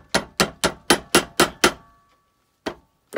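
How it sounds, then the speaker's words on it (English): Seven quick, evenly spaced hammer blows ring out on a silver fork, followed by a pause and two more separate strikes, sharp and close. "so I'm gonna hammer it."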